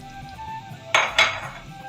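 Moru curry (spiced buttermilk curry) being stirred in a pan with curry leaves, red chillies, asafoetida, turmeric and chilli powder: two sharp metallic scrapes of a spoon against the pan, close and distinct.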